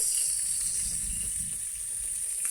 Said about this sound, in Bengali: আপু মাছের জন্য পেঁয়াজটার একটু লাল লাল করে ভেজে নিচ্ছে